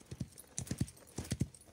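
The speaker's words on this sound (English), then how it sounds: "the horse's footsteps disappear when" Horse hooves clip-clop in quick paired beats across Wild West Online terrain, a steady rhythm of close, moderately loud steps with no talk over them.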